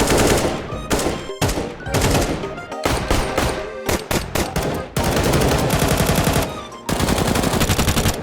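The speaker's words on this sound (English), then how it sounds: "most of the gun sounds in CS2 are the same as they are in CSGO" Rapid bursts of automatic gunfire from the video game Counter-Strike in quick succession, loud and close, with brief gaps between volleys and sustained full-auto stretches.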